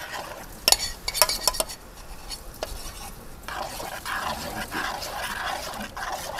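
A wooden spatula stirs thick, hot, bubbling dough in a pot while making a traditional Balinese dish, giving close scraping and thick churning sounds, with a few sharp knocks against the pot near the start.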